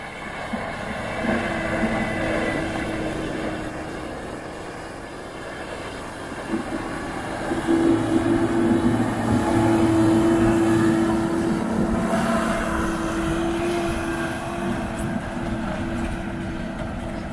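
An AGCO White 6215 tractor pulling a chisel plow through snow on an Iowa farm, its steady engine drone continuous and close, swelling louder with a deeper low hum midway through.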